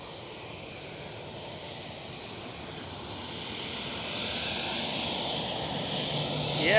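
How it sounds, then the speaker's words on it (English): A KLM Boeing 737 jet roars steadily at Amsterdam Schiphol, the engine noise slowly swelling louder as it passes. "And the KLM 737."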